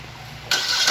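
Chevrolet Prisma car engine starting: a short starter whir, then the engine catches with a sudden loud burst and settles into a steady close running rumble.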